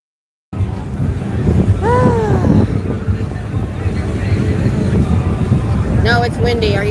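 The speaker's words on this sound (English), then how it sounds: "No, it's windy. Are you hearing that?" Loud, constant wind buffeting a microphone on a street in Austin, Texas, a rumbling roar that fills the clip, with short whistling tones rising through it.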